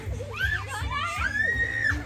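A child screams with rising and falling high-pitched wails during backyard slip 'n slide play, fairly faint and continuous, over a murmur of other voices.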